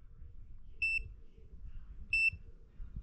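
A multimeter set to continuity gives two short, clear electronic beeps about a second apart while a spark plug is tested, each tone steady and alone over a low background hum.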